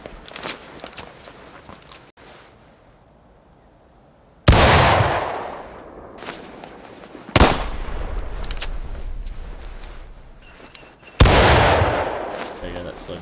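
Black-powder musket volleys crash out in the Civil War game War of Rights, three big rolling bursts of massed gunfire spaced a few seconds apart, each decaying into a long echoing tail, with faint scattered shots and movement between them.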